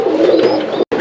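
Domestic fancy pigeons at a pigeon sale coo close up in one steady, throaty run that breaks off briefly near the end.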